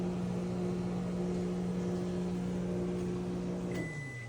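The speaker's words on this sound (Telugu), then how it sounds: "ఇప్పుడు నేను మైక్రోవేవ్ ఓపెన్ చేస్తున్నాను" A microwave oven roasting peanuts hums steadily and loudly on its own, then a beep sounds near the end as the hum winds down.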